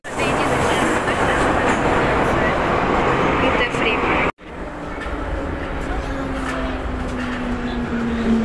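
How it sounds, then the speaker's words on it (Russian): A Saint Petersburg metro train rumbles steadily as it pulls away, a loud continuous roar with a rising whine from the motors, heard from inside the carriage. "Отправляется поезд."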